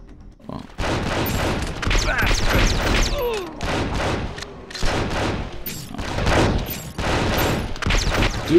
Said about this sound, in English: Dude was firing an assault rifle point blank at Kim and managed to not hit her.